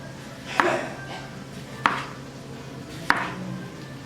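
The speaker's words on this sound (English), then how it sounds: "Now I'll cut them into little slices." Three evenly spaced knife chops cut washed, unpeeled potatoes into thin slices on a cutting board, each a crisp close thunk over faint kitchen background hum.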